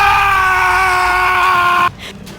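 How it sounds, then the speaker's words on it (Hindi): The villain Nightcrawl in an animated story lets out a loud, sustained, piercing scream that holds steady for almost two seconds, then cuts off abruptly into quieter background sound. "नाइट क्रॉल चीखता है।"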